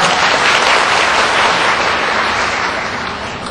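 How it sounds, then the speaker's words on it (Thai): A seminar audience gives loud applause to thank a lecturer: dense, full-room clapping close by, strong at first and gradually fading toward the end, with no talking. "ขอเสียงปรบมือดังเลยครับ"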